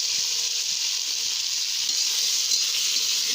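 Potatoes sizzle steadily in hot oil with cumin seeds, bay leaves and a green chilli, a loud, even frying hiss running unbroken throughout with no talk.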